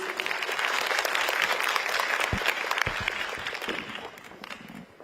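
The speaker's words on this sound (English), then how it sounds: "Another round of applause for Mr. Luino, please" Audience applause at the opening ceremony of a dermatology association's annual meeting, a dense, steady wash of many hands clapping close by for several seconds, thinning slightly toward the end.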